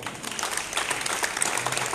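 Applause from an audience at a municipal thank-you ceremony for civil protection volunteers in San Severo, Italy: a dense, steady patter of many hands clapping at moderate volume.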